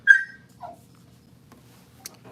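A dog lets out a short high whimper followed by a fainter whine, with a few soft scattered noises in a quiet room.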